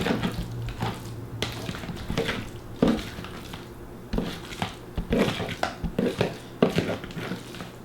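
Egg salad is stirred in a bowl, with repeated wet squishing, crushing and utensil scrapes against the dish in an irregular rhythm. The sounds are close and moderately loud, and come in bursts separated by short pauses.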